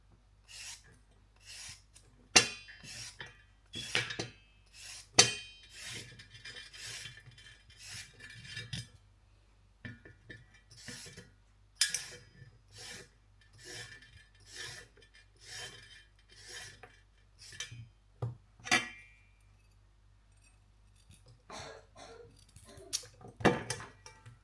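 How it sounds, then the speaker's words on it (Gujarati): A carrot scraped with a peeler in a kitchen, giving a run of short rasping strokes in an uneven rhythm, close and fairly quiet, with occasional light clinks in between. "તો અહીંયા ગાજર સોલાઈ ગયું છે"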